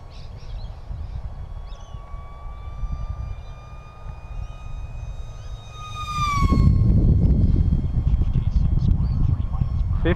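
A UMX Habu RC jet airplane whines with a steady high electric ducted-fan tone that sweeps downward as it passes, followed by louder rushing noise close by, with people talking nearby.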